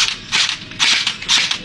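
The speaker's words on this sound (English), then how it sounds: "Being a machine gun, it should be able to hold down suppressive fire." An airsoft machine gun with a bipod fires BBs at about 20 per second in three rapid, crackling bursts, close and fairly loud, with brief pauses between them.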